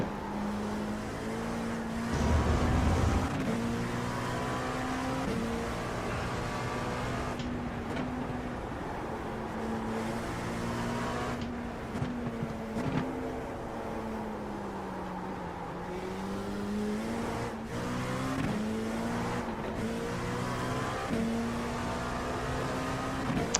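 Race car engines in a sim racing game, with GT3 and faster prototype classes at Mid Ohio, drone with a steady tonal whine that rises and falls through shifts and corners, loud and continuous, with brief bursts of extra noise.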